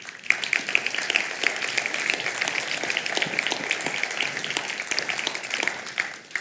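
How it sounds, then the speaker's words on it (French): Audience at a Geneva human rights forum applauding a speaker: close, lively clapping from a crowd, steady and even throughout with sharp individual claps standing out. "Venez Gilles, on peut l'applaudir"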